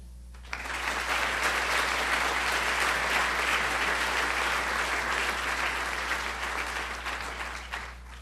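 An audience at a student recognition awards ceremony breaks into sustained clapping for an award recipient, rising quickly and holding steady for several seconds before fading, with a low hum underneath.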